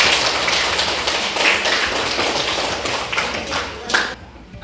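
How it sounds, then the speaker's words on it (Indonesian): Primary school children clapping together in a classroom at SDN 1 Sinargalih, a dense, fairly loud patter of small hands that holds steady for several seconds before briefly tapering and swelling again at the close. "Tepuk tangan buat semuanya."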